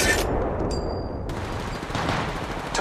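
Sustained gunfire in the Apex Legends Mobile video game, a dense, loud rattle of automatic shots throughout with no breaks.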